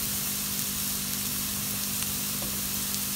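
Bell pepper and carrots frying in a pan for a ragù sauce, a steady close sizzle with faint crackle running through and a low constant hum beneath.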